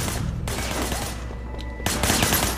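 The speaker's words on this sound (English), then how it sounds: "There was a shooter. Firing shots from the passenger window." Gunshots ring out from a car's passenger window in the action game Sleeping Dogs, loud rapid bursts of gunfire with a brief lull before another burst.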